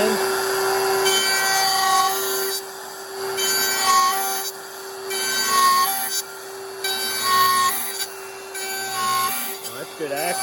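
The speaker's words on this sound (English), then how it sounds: "So this ball bearing is going to ride along the body, and that's why it's a flush trim bit." Router with a ball-bearing flush trim bit cutting around the edge of an acoustic guitar back, a loud close whine with pulsing surges as the cut progresses, and voices talking over it.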